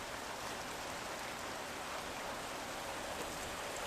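Rain falling during outdoor grilling in a rainstorm, a steady faint hiss of rainfall with no distinct events, uniform throughout.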